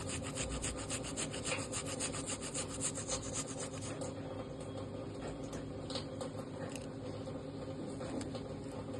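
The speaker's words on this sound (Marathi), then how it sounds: "त्यामध्ये थोडंसं आलं किसून घालूया." Fresh ginger is rubbed over a grater into a buttermilk kadhi, rapid rhythmic rasping strokes up close that turn more irregular and scattered halfway through, with no voices.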